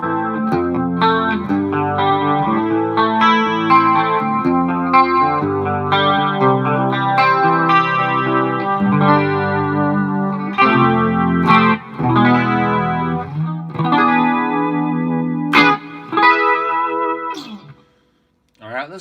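Electric guitar through a Headrush rig with the cabinet simulation bypassed, a bright, fizzy distorted tone with chorus, busy riffing and chord runs played steadily and close, stopping briefly near the end.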